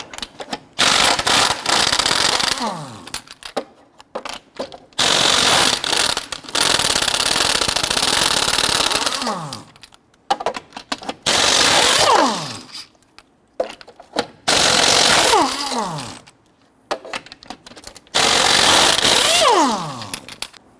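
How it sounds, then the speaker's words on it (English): A 22mm socket on a power tool loosens and removes the wheel lug nuts in the front wheel well of a 2006-2014 Honda Ridgeline. Several loud, rapid rattling impact bursts follow one another, separated by short pauses and clinks, with no talking. "Using a 22mm socket, you want to go ahead and loosen and remove your lug nuts."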